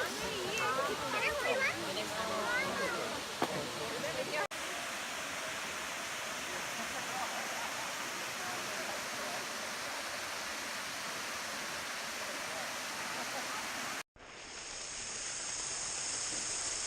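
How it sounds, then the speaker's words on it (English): Wangi Falls waterfall pours in a steady, broad rush, with people talking over it at the start before the water carries on alone, briefly cut and resumed. "Okay, yeah, so that was Wangi Falls."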